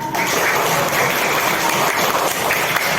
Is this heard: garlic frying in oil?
no